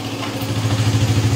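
A Suzuki motorcycle engine idles after a keyless unlock, producing a steady, low, pulsing rumble close by, heard alone without talk.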